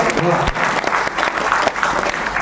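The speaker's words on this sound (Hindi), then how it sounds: "एक बार आदित्य जी यादव जी के लिए एक बार तालियां बजा दीजिए" Audience applause at a mushaira, an Urdu-Hindi poetry gathering honoring Aditya Yadav, a dense steady wash of many hands clapping close and loud for the full stretch, with a faint voice underneath.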